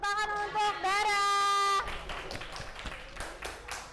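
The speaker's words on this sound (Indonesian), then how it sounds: "Oke, tepuk tangan untuk Dara." A classroom of students claps for a classmate, the scattered hand claps starting after a brief voice and continuing at moderate loudness for a couple of seconds.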